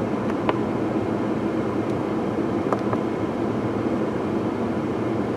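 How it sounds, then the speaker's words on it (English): A Chevrolet Trailblazer inline-six engine idles with one injector disabled during an oil pressure test, giving a steady, loud, even drone with a few faint ticks and no voices. "Engine speed has gone down a little bit."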